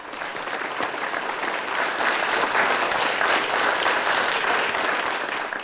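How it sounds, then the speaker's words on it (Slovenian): Steady, full audience applause at a Slovenian polka and folk music show in the Spodnja Savinjska valley, greeting a band. The dense clapping stays loud and even throughout, with no talk over it. "dajmo jim en velik aplavz."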